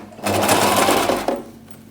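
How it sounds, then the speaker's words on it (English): A sewing machine stitches hair into a wig cap in one short, close, loud buzzing run of rapid needle strokes lasting about a second before slowing to a stop. "allowing the sewing machine to stitch the hair into the cap"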